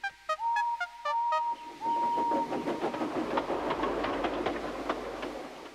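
A steam tank engine pulling into a station, with repeated whistle toots followed by rhythmic chuffing and rattling wheels as it rolls in, fairly close and loud.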